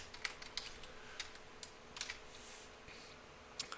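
Soft, quick keystrokes on a computer keyboard tap in irregular bursts, faint and close in a quiet room.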